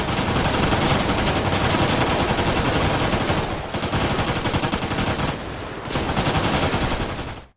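Dense, continuous automatic gunfire in the video game GTA V, loud and sustained bursts with a couple of short pauses, filling the whole stretch with no talk.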